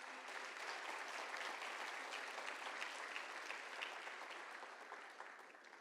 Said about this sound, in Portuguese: Dá para aplaudir o Senhor Jesus depois disso?